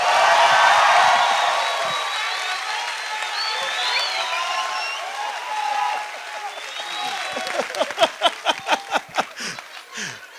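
Live comedy show audience breaking into applause and cheering, a dense wash of clapping with whoops that thins into separate, distinct claps near the end.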